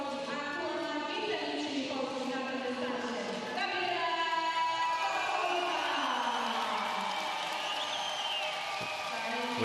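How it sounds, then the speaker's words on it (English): An arena crowd at a European short track speed skating championship in Gdansk cheers and applauds steadily, a broad roar with whoops, while a commentator talks over it. "We'll hear a rousing cheer for this next skater"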